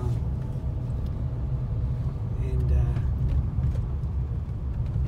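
A car drives along at a steady pace toward a park in a rural area, its low engine and road rumble holding continuous and fairly loud throughout, with no voices over it.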